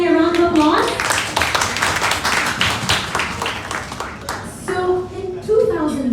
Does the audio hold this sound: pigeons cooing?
no